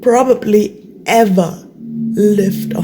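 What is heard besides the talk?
No everyday noise stands out behind the speech.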